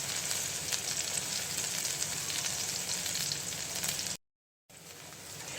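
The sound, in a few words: chopped onions frying in mustard oil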